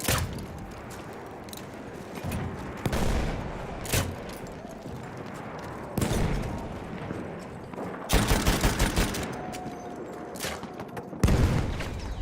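Enemy machine gun fire in the Battlefield 1 war game, repeated bursts of rattling shots with heavier booms mixed in over a constant battlefield din.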